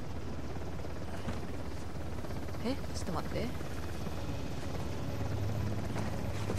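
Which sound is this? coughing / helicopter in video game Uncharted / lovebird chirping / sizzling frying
helicopter in video game Uncharted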